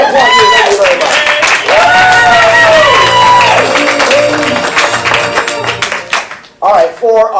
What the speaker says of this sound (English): We applaud you, thank you very much.